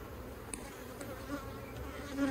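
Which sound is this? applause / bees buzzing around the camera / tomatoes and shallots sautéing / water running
bees buzzing around the camera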